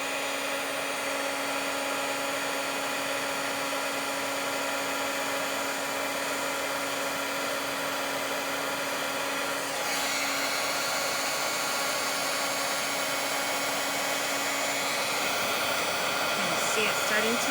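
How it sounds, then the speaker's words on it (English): A heat gun blows a steady, loud whirring hiss of hot air onto Nuvo Mousse for junk journal ephemera, running continuously throughout with a slight shift in tone partway through and no talk over it. "So you're going to hear my heat gun here."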